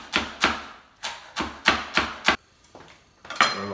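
A knife chops serrano chili on a board for a soy ceviche, landing about nine crisp, loud, close strikes at a steady pace with one brief pause, no voices.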